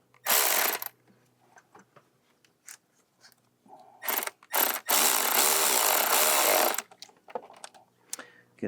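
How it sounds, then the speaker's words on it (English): A 7mm ratchet tightens a hose clamp on the turbocharger coolant hose of a 2011-2015 Mini Cooper S, with close, loud bursts of rapid clicking. A short burst comes first, then two quick bursts and a long sustained run, with faint ticks between. "Grab your 7mm."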